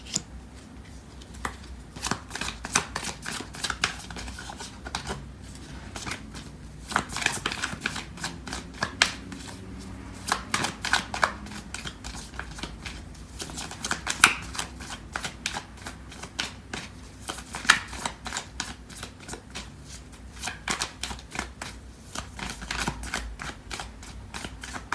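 Tarot cards are shuffled steadily and up close, with quick papery riffles and soft flicking bursts repeating throughout with no voices present.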